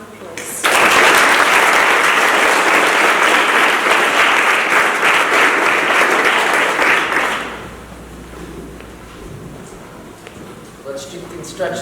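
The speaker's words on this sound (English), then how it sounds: "just give her a round of applause" Students and staff at a grade 5 and 6 final school assembly break into loud, sustained applause that starts abruptly, holds steady for about seven seconds, then cuts off into a quieter room with faint murmurs.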